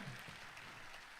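Faint, distant clapping from a crowd at an award ceremony, a steady patter of applause through the whole short stretch.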